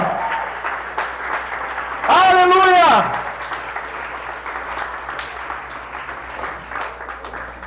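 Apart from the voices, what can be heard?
church congregation applauding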